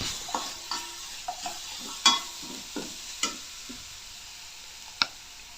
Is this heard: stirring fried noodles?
yes